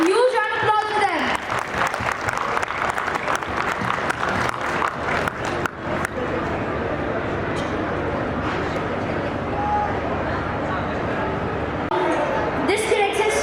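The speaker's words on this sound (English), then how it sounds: "A huge round of applause for them." A crowd at the Pune Book Festival claps loudly for the authors after a panel discussion. The applause is thick and sustained for the whole stretch.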